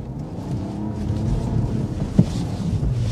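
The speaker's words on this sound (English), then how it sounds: "Going to give us the wheel spin we need to get unstuck." Land Rover engine churning low and rough while stuck in mud, wheels spinning, with a brief sharp knock partway through and wind noise on the microphone throughout.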